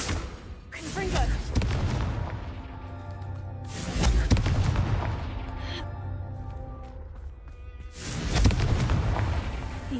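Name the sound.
Confringo blasting spell explosions in a Harry Potter video game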